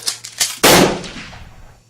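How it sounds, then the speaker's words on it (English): A single gunshot rings out after a few light clicks and knocks, a sharp loud blast whose echo fades over about a second, close, with no speech. "just before anybody was ready, the gun went off"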